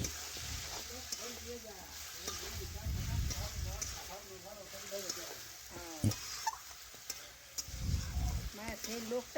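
Chicken simmering down in a pan while being stirred, giving a soft sizzle with intermittent scraping and stirring clatter, close by, under a woman's speech running through most of the clip.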